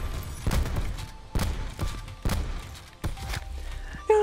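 Gunfire from the Modern Warfare video game: several loud, sharp shots spaced about a second apart, each a broadband burst with a short tail, over steady game background noise.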